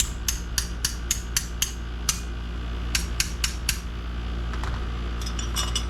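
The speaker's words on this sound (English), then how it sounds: "So this thing needs to get tapped in a little bit." Sharp metallic taps while seating a part on a leaf spring from a 1999 Jeep XJ on a workbench, about a dozen crisp strikes in short bursts over a steady low hum.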